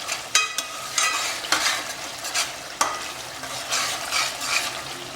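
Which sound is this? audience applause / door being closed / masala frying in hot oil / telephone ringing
masala frying in hot oil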